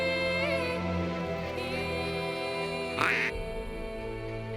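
Ducks quack in a busy, overlapping chorus nearby, with harsh nasal calls repeating continuously and one louder burst near the end.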